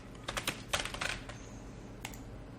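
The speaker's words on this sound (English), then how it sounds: "now you can just double click on this text and type your text" Brief typing on a computer keyboard, a quick cluster of close, light key clicks followed by a pause and one last tap, alone in a quiet room.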